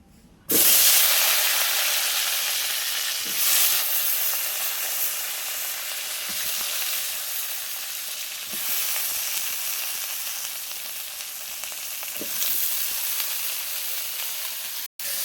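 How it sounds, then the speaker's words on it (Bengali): Pointed gourd (potol) frying in oil, a long, steady sizzling hiss with occasional spatters and light clatters, heard close and without talk, cutting off abruptly at the end. "এবার পটলটা ভেজে নেব।"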